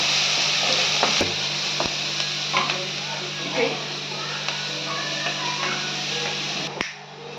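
Onions sauté in a pan with salt, giving a constant soft sizzle under scattered sharp clicks and taps of a spatula against the pan.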